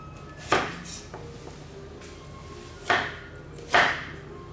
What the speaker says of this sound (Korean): 무는 최대한 얇게 썰어 주시면 좋아요